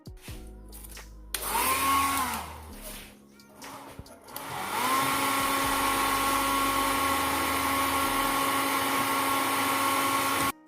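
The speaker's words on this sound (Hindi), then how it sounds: "वो है जी हेयर ड्रायर और ये बेहतरीन काम करती है" A household hair dryer used for cleaning a stove blows with a loud, steady whining whoosh. It runs briefly, drops, then switches back on and runs continuously without talk.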